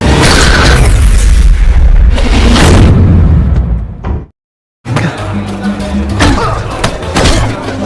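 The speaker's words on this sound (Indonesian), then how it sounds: "Setelah memantapkan niat dan bidikannya, peluru dilepaskan." A sniper rifle fires in an action film about a marksman fighting drug dealers: loud, heavy booming blasts that cut to a brief silence before dense, rumbling film sound resumes.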